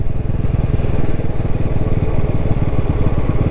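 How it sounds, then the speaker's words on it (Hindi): A 2024 Bajaj NS400z motorcycle runs in fifth gear at low speed. Its engine gives a loud, steady, rough thrum with a rapid, clattery knocking pulse throughout, recorded close up without talk. "अगर मैं उसको थोड़ा रेव करूँ तो नॉकिंग जो है 40 के ऊपर जो है नॉकिंग चले जा रहा है"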